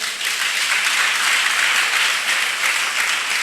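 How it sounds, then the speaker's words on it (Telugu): A church congregation at a Sunday service bursts into loud, sustained applause, dense clapping from many hands filling the room at a steady level with no break. "ప్రార్థన చెయ్యాలి అన్న వాళ్ళందరూ చప్పట్లు కొట్టండి"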